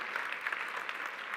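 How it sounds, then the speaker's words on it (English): An audience at a school community meeting in El Paso gives a soft, distant round of applause, with a steady wash of clapping at low volume. "Let's give her a round of applause."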